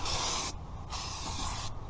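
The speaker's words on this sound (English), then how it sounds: "go ahead and spray it off with some of your brake parts cleaner." Brake parts cleaner hisses from an aerosol can onto a new brake rotor in two close bursts, the first about half a second long and the second longer, with a short pause between them.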